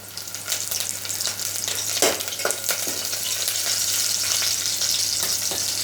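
Garlic and curry leaves sizzle in hot oil as the base of a Malvani fish curry, a steady close crackling hiss with a few sharper pops and no voices.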